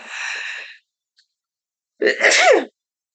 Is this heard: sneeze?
yes